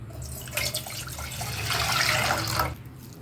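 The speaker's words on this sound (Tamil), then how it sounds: "தண்ணி ஊற்றிக்கலாம்." Water runs steadily into a pan while sweet jelly is made with sugar and agar-agar. A close, splashing pour lasts a few seconds and then stops.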